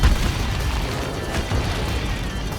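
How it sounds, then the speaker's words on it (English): Mortar fire explosions in the Call of Duty 4 Remastered video game: dense, rumbling booms and blasts filling the whole short stretch, loud and continuous with no gaps. "Mortar fire! Incoming!"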